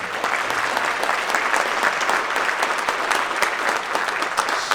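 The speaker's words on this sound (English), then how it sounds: "give a big round of applause to Lori Dawson" Audience at a school district band and orchestra trip meeting applauds steadily for several seconds, a dense, even clapping texture at moderate loudness with no voices over it.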